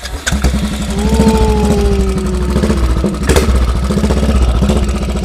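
A Royal Enfield custom chopper motorcycle engine runs steadily and close, with a fast, even thumping pulse throughout and a couple of brief whining tones over it; no one speaks.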